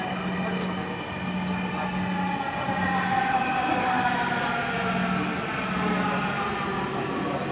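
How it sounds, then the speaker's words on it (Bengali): On the Dhaka metro near Uttara Center, another metro train passes on the opposite track, heard from inside a carriage as a loud, sustained rumble and rush of wheels lasting throughout, with a faint squeal. "অপর সাইড দিয়ে আরেকটি ট্রেন ক্রস করে গেল"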